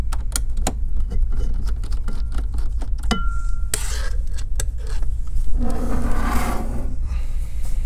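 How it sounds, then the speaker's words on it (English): A regular Phillips screwdriver removes the four screws from the underside of an Asus V241E all-in-one computer, giving close, sharp clicks and ticks, a brief metallic squeak and soft scraping rubs. "So go ahead and remove all the four screws."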